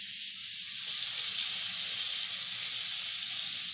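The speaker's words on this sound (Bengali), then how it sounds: "ভাপিয়ে রাখা ফুলকপিগুলো তেলের মধ্যে দিয়ে ভেজে নিতে হবে" Steamed cauliflower pieces fry in hot oil in a pan, giving a loud, continuous hissing sizzle that swells slightly and holds steady throughout.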